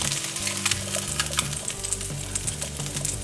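Eggs fry in a pan with a steady, close crackling sizzle and scattered pops, continuous throughout with no speech.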